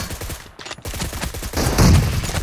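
Rapid gunfire from a team deathmatch video game on an iPad Pro fires in quick bursts of repeated shots, loud and punchy, building to a denser volley near the end.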